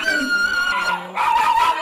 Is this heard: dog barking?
yes